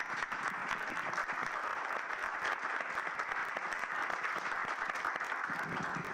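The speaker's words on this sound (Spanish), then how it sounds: "un aplauso." An audience at a closing debate session applauds steadily, a continuous even wash of many hands clapping from start to finish at moderate loudness.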